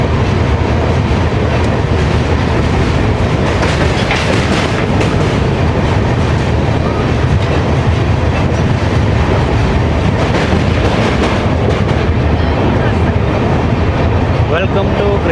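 Riding in a general coach of the Silchar–Coimbatore express on its non-stop run out of Vijayawada Junction: constant loud rumble with rhythmic clickety-clack of wheels over rail joints throughout.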